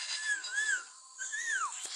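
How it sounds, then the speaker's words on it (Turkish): Two drawn-out whistled phrases in a video game, each gliding up and down in pitch, separated by a short pause and heard clearly over a faint background hiss. "Bak aynı sesi duydun mu ıslık çalar."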